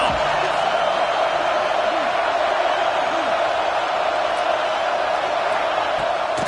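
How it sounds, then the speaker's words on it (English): Stadium crowd at a Notre Dame vs USC football game roaring on third down, a dense, steady wall of cheering and noise that stays loud throughout, with a voice faintly in the mix. "Decibels rising as the crowd gets behind this defense on 3rd down."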